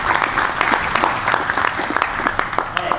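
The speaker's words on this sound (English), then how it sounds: "give, again, just a quick round of applause" A quick round of applause breaks out from the audience at a basketball Q&A panel, close and loud, with individual claps popping out of the crowd sound and keeping a busy, uneven rhythm for the whole stretch.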